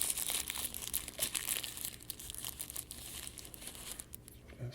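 Plastic wrapping crinkles and tears up close while an electric screwdriver is unboxed, a steady stream of crackling rustles with no talk.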